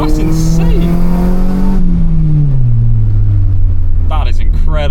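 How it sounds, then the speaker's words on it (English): A Honda Civic engine roars through a modified eBay exhaust, a loud, close droning tone that sweeps down in pitch as revs fall, then holds a steady low hum before rising again. "you can still hear the exhaust clearly, but it just gets rid of that, of the bass"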